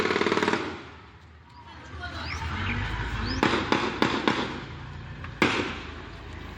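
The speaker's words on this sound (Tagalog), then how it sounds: "umalingaw-ngaw ang sunod-sunod na putok" Successive gunshots during a roadside ambush of an SUV: a quick cluster of sharp cracks followed later by one more loud report, heard over a steady rumbling background with distant voices.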